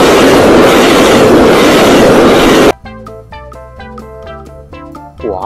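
A high-speed train rushes past loudly as a broad roaring wash of wheels and rail noise for nearly three seconds, then cuts off abruptly into a tonal musical passage.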